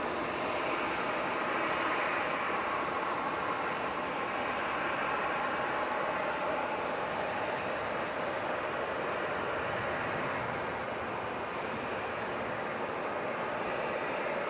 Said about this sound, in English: You just watch the planes come off the ocean and make the turn and come into LAX.